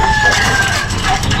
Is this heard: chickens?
yes